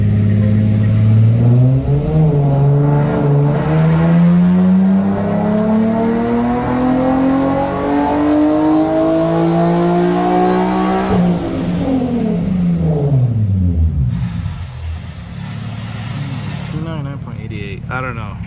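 Nissan S15 with intakes, full single-exit exhaust and stock headers revs hard on a dyno, the engine note climbing steadily through a long pull before dropping off sharply; loud and close, with voices talking near the end.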